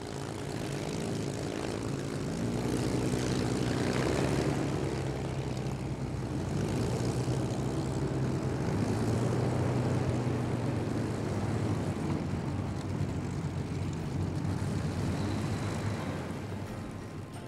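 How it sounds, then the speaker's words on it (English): A Supermarine Spitfire with a Rolls-Royce Merlin engine passes by, a loud, continuous propeller-engine drone that swells and sustains for the whole stretch, with no voices. "the instantly recognisable sound of its Rolls-Royce Merlin engine"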